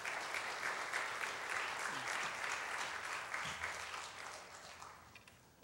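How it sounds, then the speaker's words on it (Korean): A church congregation at an evening sermon concert applauds in a sustained, even wash of clapping from many people, which fades gently toward the end. "나오실 때 박수 한번 하겠습니다"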